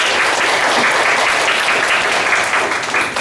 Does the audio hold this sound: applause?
yes